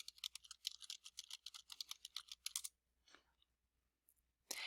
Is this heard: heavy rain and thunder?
no